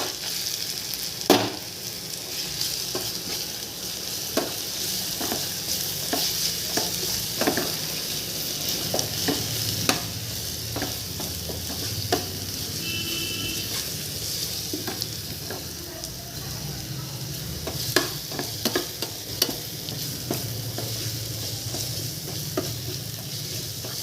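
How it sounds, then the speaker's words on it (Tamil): Ginger garlic paste sizzles steadily in a pan for a prawn and spinach gravy, a continuous hiss under repeated sharp scrapes and taps of the stirring spoon, close up with no talking. "சட்டியில் இஞ்சி பூண்டு விழுது போட்டு கிண்டிப்போம்"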